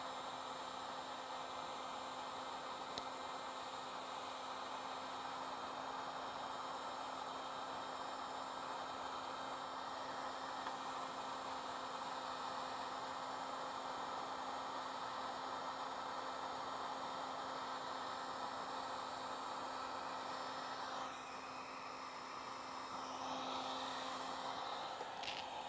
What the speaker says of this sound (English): just start working that heat gun